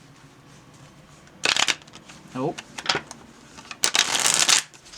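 Cards being shuffled in two quick bursts of riffling and fluttering, close by, with a short pause between them and a brief spoken word.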